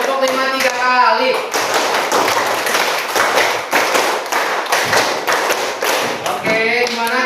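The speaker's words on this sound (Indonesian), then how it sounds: "Tepuk 5 3 kali" A class of pupils claps a five-beat rhythm three times in a classroom, bursts of sharp hand claps in steady groups, with voices briefly at the start and end.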